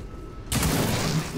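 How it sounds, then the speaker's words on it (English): Gunfire from the video game XCOM 2: War of the Chosen bursts in abruptly after a quiet half-second as a loud, sustained, dense rattle of shots that continues to the end. "Then we're going to shoot the"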